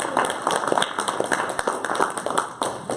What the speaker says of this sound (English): So a big round of applause for Visa